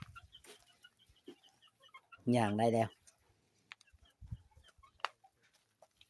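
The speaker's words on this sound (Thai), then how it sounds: "นี่แหละพี่น้องไก่" Farmyard chickens being fed give one loud, brief squawking cluck in the middle, with faint scattered clucks and rustling around it and people talking quietly nearby.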